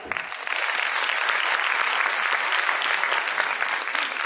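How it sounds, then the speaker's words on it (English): A school audience at a junior wing annual function applauds class 10 students, a dense, even wash of many hands clapping that swells in after a brief start and holds steady throughout. "I request all of you to give a big round of applause for the students of the second batch of our class 10."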